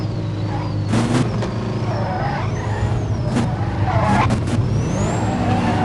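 A NASCAR race car engine in the No Limit Drag Racing 2.0 video game, a steady droning motor with rising and falling revs through gear changes and several brief sharp bursts, loud and continuous.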